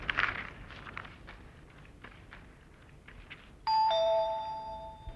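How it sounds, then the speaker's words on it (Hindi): A doorbell chimes loudly in a home, a two-tone electronic ding-dong that rings out clearly and sustains to the end, following quieter footsteps and household shuffling. "जानू, डोरबेल"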